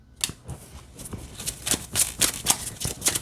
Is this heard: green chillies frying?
no